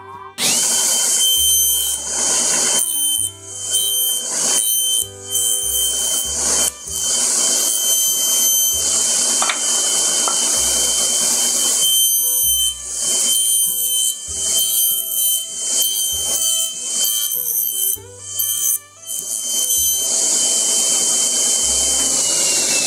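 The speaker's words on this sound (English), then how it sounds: "we have to notch this out right here like this, and we'll do that on the table saw." Table saw notching a 2x4 for a blind joint: a loud, continuous high whine runs nearly throughout, with repeated cuts marked by brief dips and surges in load, close and alone with no talk.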